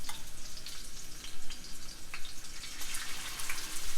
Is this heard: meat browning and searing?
yes